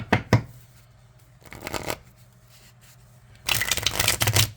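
A Tarot of the Abyss card deck is shuffled in three crisp, close riffling bursts: two short ones, then a longer, louder flurry at the end, with quiet pauses between.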